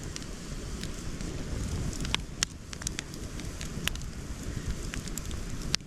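Outdoor campfire burning steadily on a November day, a continuous soft roar of flame with scattered sharp crackles and pops, fairly close and without talk.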